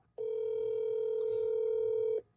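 Steady electronic telephone tone on a phone call, a single continuous note holding for about two seconds before cutting off cleanly, with no talk over it.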